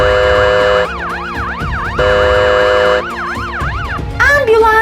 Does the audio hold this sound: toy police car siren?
yes